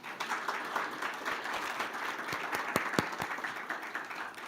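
An audience at an induction ceremony applauds in a hall, a dense wash of many hands clapping, steady and fairly loud, with a few sharper individual claps near the front.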